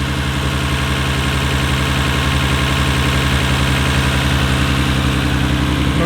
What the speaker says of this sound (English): The engine runs so smoothly.